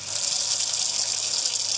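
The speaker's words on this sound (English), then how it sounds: "So all we need to do is turn on some cold water." Cold water gushes steadily from a faucet into a sink drain, a continuous bright hiss at close range with no voices.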